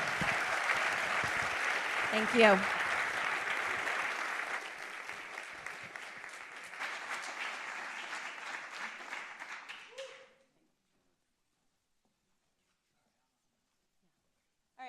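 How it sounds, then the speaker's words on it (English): An audience at a City of Lancaster, Pennsylvania comprehensive plan presentation applauds a panel, steady moderate clapping for about ten seconds with a brief spoken thanks over it, then a sudden stop into silence. "Give a round of applause to them."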